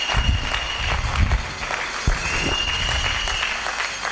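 A church congregation claps and cheers at a Sunday sermon, a thick continuous round of applause with uneven louder spurts, filling the room at close range.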